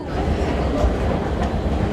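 A Lisbon metro train runs along the track with a steady loud rumble and faint rhythmic wheel clatter, heard from inside the carriage with no talk.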